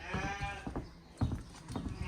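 Sheep on an Australian farm on a very hot day, several short bleats and livestock calls scattered close by among rustling and shuffling, no talking.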